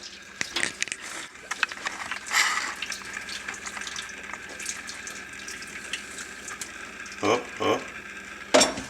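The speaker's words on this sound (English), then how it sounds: "hold a pot at an angle and use this kind of as your strainer and just tilt. And you can normally get pretty much all the water out" Water pouring and splashing into a sink as a cooking pot is tilted to drain it, with the lid held at an angle as a strainer, plus a few clanks of metal against metal.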